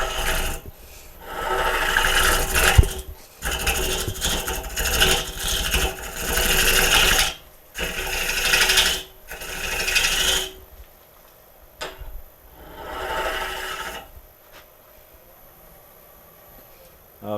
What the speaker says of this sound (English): I'm going to switch over to a scraper here. Same basic cuts. Same as I do when I'm turning a regular bowl.